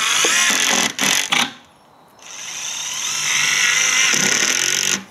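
A power drill drives Torx-head flooring screws into CaberDek chipboard flooring, with short bursts of whirring, then a brief quiet gap, then a longer sustained whine that stops abruptly, close and loud.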